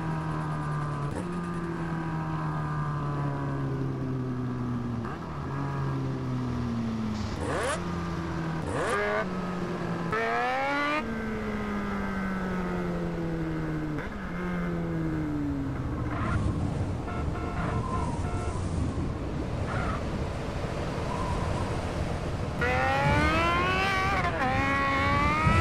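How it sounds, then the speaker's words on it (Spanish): In-game BMW S 1000RR superbike from GTA San Andreas, its engine note climbing and dropping through repeated gear shifts and revs, loud and continuous for the whole stretch with no talking. "Vamos a seguir haciendo ruido por ahí con esta moto,"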